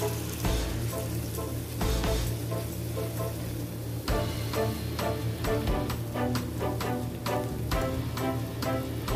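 Tuna and carrot fritters (okoy) frying in oil in a small pan, a constant sizzle under sharper popping bursts and stirring clicks, close and even, with no talking.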